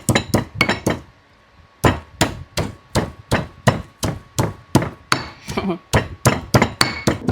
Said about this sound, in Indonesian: bumbu sudah selesai ditumbuk-tumbuk